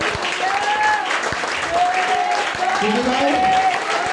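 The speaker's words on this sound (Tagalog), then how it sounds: "Pwede niyo bang ipakita mga kapatid sa Panginoon ngayon yung totoong palakpak para sa isang pagkita?" A church congregation applauds together, dense clapping filling the room continuously, while a preacher's voice speaks over it.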